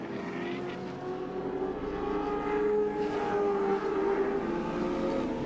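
Group A touring cars racing at Amaroo Park in 1987, with a steady droning engine note that rises in pitch as a car passes, loud and continuous with no talk over it.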